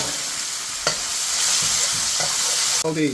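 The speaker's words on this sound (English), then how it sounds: "Onions are starting to brown. Let's just add the garlic paste." Onions browning in hot oil with garlic paste for a fish jalfrezi sizzle steadily, with a few scraping stirs of a spoon in the pan and a brief clatter near the end.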